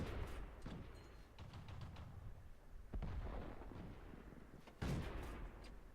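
Tank cannon fire in the video game World of Tanks, two sharp booming shots several seconds apart, each with a trailing rumble over a steady low engine hum.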